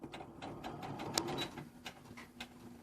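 A Brother Innovis 35 sewing machine stitches at slow speed with soft, evenly spaced ticking and whirring that stays faint and close, with a light click partway through.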